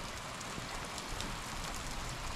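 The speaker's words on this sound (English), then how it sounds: "Oh, why couldn't we save the rain till springtime?" Steady rain falling outdoors on a freezing winter day on a farm with iced-over ground and semis, a dense even patter that holds at the same level throughout with no voices.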